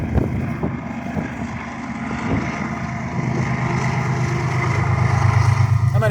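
A train passes by near Manitou Springs or the Broadmoor, a broad low rumble with wind noise that grows louder and denser toward the end.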